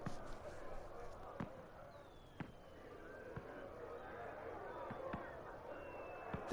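Distant fireworks in Dragon Age: Inquisition, Trespasser DLC, several faint pops and bursts spaced irregularly over a quiet ambient bed, with thin whistling streaks rising between them.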